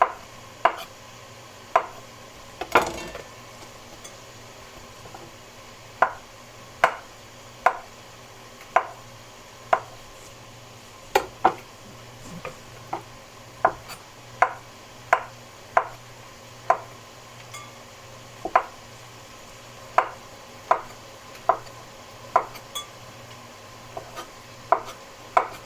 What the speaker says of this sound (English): I'm just going to slice the mushrooms.